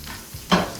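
Steak coated in a coffee rub sizzles in a hot pan, a short soft hiss that flares into two brief louder bursts of frying.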